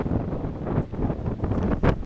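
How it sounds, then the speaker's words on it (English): Strong wind on the Cornwall coast buffets the microphone with a loud, gusty, low rumble that swells and dips throughout, with no speech. "Oh, it's so windy."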